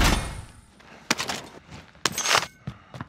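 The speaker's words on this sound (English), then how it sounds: "I hear gunfire." Distant gunfire in a Modern Warfare battle royale on Xbox One, a few scattered sharp cracks and short bursts popping over a low game ambience.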